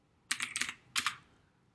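Two quick bursts of typing on a computer keyboard, a rapid cluster of clicky keystrokes followed by a shorter flurry, close and crisp in a quiet room.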